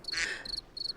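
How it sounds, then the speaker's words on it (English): Crickets chirp in a video game, shrill trilling bursts in quick succession, close and fairly faint, with no voices over them. "Oh, and crickets."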